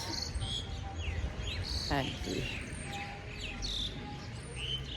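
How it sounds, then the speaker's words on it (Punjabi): Birds chirp and tweet in short repeated calls against a quiet outdoor background, with a brief spoken word from someone nearby. "ਇੱਥੇ ਪੰਛੀਆਂ ਦੀ ਚਹਿਚਕਾਟ ਇੰਨੀ ਵਧੀਆ ਲੱਗ ਰਹੀ ਹੈ"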